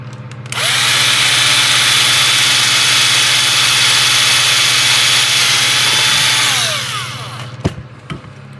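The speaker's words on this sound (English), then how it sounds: "I got to drill a hole or make a section where the bulbs can come through" A power drill whirs steadily for about six seconds while boring holes in an AMT/ERTL Star Trek The Next Generation U.S.S. Enterprise model kit, loud and close, then spins down, followed by a couple of sharp clicks.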